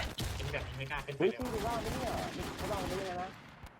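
Rapid bursts of gunfire from a shooting video game crackle close and loud, overlapping into sustained volleys while a player talks over the shots.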